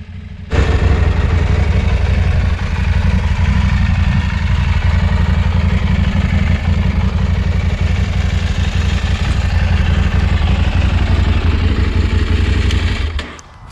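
A 2019 KTM 790 Adventure motorcycle engine runs steadily at idle, a loud, close, continuous low rumble with light mechanical clatter from start to end.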